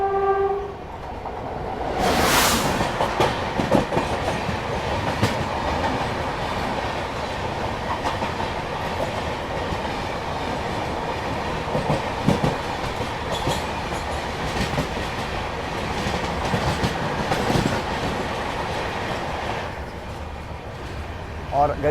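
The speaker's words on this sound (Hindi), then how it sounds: "और गरीब नवाज़ एक्सप्रेस के पहले यहाँ पे मरोदर एक्सप्रेस भी आ रही है, जोधपुर वाराणसी" An express train rolls past on the rails at Jaipur Junction, a steady rumble with clattering wheels throughout and a loud horn blast near the start, with faint voices underneath.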